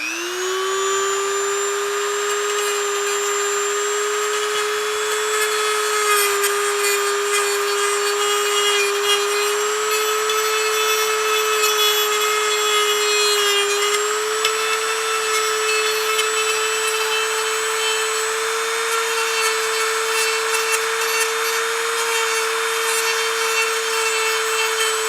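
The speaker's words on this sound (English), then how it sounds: "I'm going to kind of grind down those probes, and I'm going to kind of smooth down the plastic" A rotary power tool grinds down plastic on a manikin ankle repair, producing a loud, steady high whine with bright overtones that dips and recovers slightly under load, running continuously without talk.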